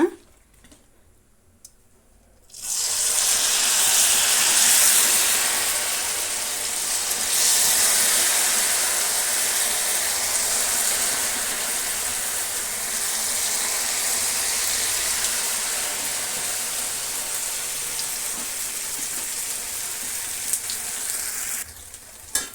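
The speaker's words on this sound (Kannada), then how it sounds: "ಈಗ ಕಾಲಿಫ್ಲವರನ್ನು ನಾವು ಡೀಪ್ ಫ್ರೈ ಮಾಡ್ಕೋಬೇಕು" Cauliflower (gobi) pieces for gobi manchurian deep frying in hot oil: a loud, sudden burst of sizzling that settles into a continuous, close bubbling hiss lasting many seconds before fading.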